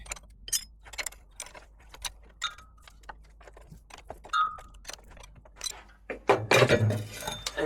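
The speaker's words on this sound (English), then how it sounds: "So now we've just got these 3 bolts here to undo." Bolts being undone on the air dryer unit of a DAF XF or CF truck, heard as a string of close metallic clicks and clinks from a wrench, ending in a louder rattling burst.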